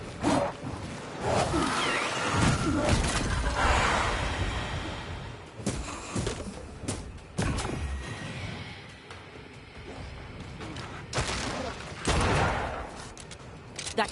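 Scattered gunshots sound in the action game Banishers: Ghost of New Eden on PS5, with sharp bangs and whooshes spread across the clip among game sounds and occasional voices.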